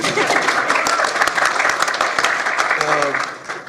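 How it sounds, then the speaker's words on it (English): Audience applause fills a large hall after news of a cancer cure, a dense steady roar of clapping with cheers and voices mixed in, loud and continuous before easing slightly at the end. "You can clap, it's okay."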